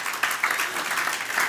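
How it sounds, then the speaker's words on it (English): A church congregation claps its hands in praise, a steady patter of many hands with a few sharper bursts, fairly close and continuous across the room, with no voices over it. "Let's give him a hand clap of praise on that."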